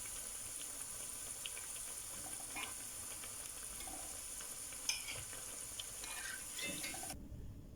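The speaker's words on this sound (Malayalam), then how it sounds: "ഇപ്പോൾ ഈ ഉള്ളിവട ഫ്രൈ ആയി വന്നിട്ടുണ്ട്" Onion fritters, Kerala-style ulli vada, fry in hot oil with a steady, soft hiss and crackle, a dense continuous sizzle with small pops, fairly faint and unbroken until it stops abruptly near the end.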